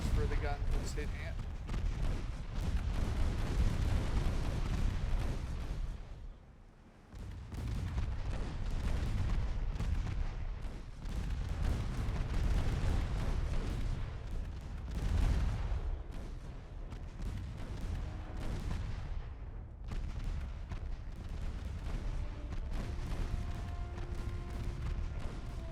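Naval gunfire and shell hits on a ship in the naval warfare game Ultimate Admiral Dreadnoughts, continuous rumbling booms and blasts with a brief lull partway through, mixed under a voice talking.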